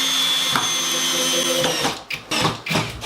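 Power drill driving 75mm 10-gauge screws into wood, a steady loud whir that holds, then breaks into several short bursts near the end.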